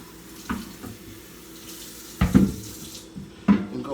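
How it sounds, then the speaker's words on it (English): Water from a running kitchen tap splashes as seeds are rinsed off a cutting board, a steady stream with a few louder surges as the board moves under it. "I can just rinse the seeds off the cut board."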